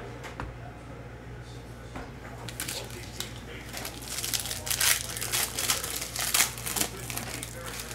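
A foil pack of NFL Mosaic trading cards is torn open, giving crinkly tearing and crumpling that grows louder toward the end over a low steady hum, with a voice talking.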